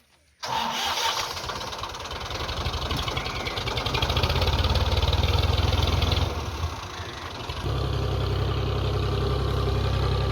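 A Massey Ferguson 240 tractor engine starts up abruptly and runs loud and close while pulling a trailer, holding a steady rumbling chug with a brief dip in revs midway before settling back in.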